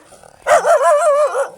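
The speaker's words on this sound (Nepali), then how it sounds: "अब अर्को रातो कालो कुकुर आइसकेको छ" A dog barks close by in a single drawn-out, whining bark-howl that rises and wavers for about a second before fading.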